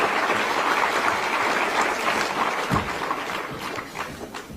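Audience applause at a public event in Delhi attended by Chief Minister Rekha Gupta and ministers, cheering a tree-protection team; dense, steady clapping fills the whole stretch and eases off slightly toward the end.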